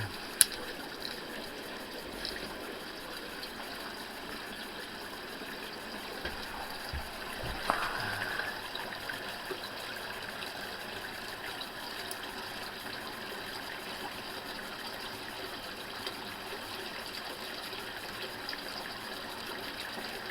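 Hot spring water runs into a tub at Bonneville Hot Springs, a steady, fairly faint gushing wash that carries on evenly with only a few small knocks and no voices.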